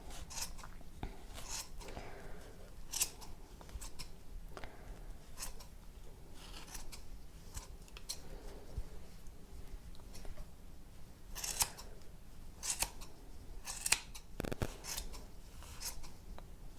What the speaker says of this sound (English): get your nice sharp scissors and cut all your loops